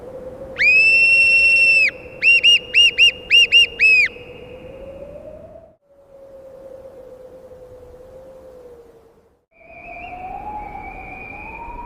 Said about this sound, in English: A sharp whistle pierces the wind.